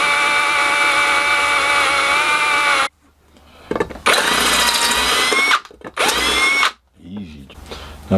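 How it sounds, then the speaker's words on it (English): A power drill bores holes into the top of a box, whirring loudly in several bursts separated by short pauses, close and alone. "So I'm going to drill 2 holes there."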